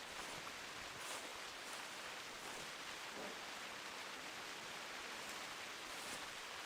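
Steady, dense rain pours down in the theHunter Classic hunting game, a constant even hiss of drops that fills the whole scene without pause.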